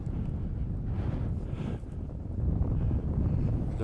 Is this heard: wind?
yes